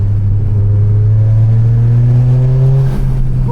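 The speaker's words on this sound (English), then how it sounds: "with these intake noises" A tuned Toyota GR Corolla on a gravel road pulls hard, its intake noise rising in pitch as the engine climbs through the revs, loud and close, with no speech.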